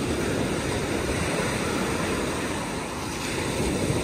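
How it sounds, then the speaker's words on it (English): Ocean surf rolls and washes continuously at a beach, a loud broadband roar with some wind buffeting the microphone and no speech. "We'll just sit here and wait for the waves to come."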